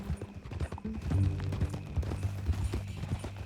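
Horse hooves clip-clop at a steady walking pace in Red Dead Redemption 2, close and moderately loud over a low, droning background.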